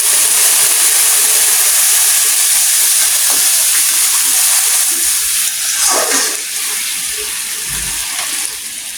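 Hot water poured onto rice fried in a pan for chicken biryani sets off a loud, continuous sizzle and steamy hiss, bubbling and crackling steadily for several seconds without talk.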